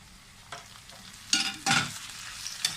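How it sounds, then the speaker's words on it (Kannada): Tomato and green chili frying in a pan alongside golden-fried onions for a squid sukka, heard as bursts of loud sizzling and stirring scrapes, two strong surges in the middle and lighter clatter around them, no voices. "ಟೊಮೆಟೊ ಮತ್ತು ಗ್ರೀನ್ ಚಿಲ್ಲಿ ಎರಡು ಹಾಕ್ಕೊಂಡು ಫ್ರೈ ಮಾಡ್ಕೊಳ್ತೀನಿ ಚೆನ್ನಾಗಿ"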